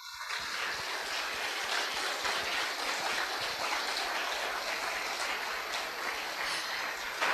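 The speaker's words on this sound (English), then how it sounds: "Can you clap for us?" Steady, dense audience clapping at a company Medalium 2022 day event, loud and continuous from the start without a break, no voices standing out above it.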